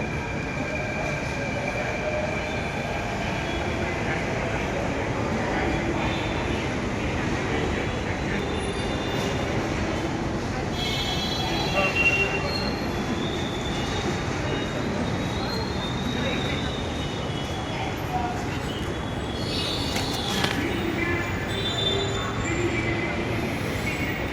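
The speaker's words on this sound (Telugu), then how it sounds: "చూడండి ఫ్రెండ్ మెట్రో ఎలా మంచిగా పోతుంది మెట్రో" A metro train runs along the track with a continuous close rumble, joined by faint wheel squeals and rattles, steady for the whole stretch.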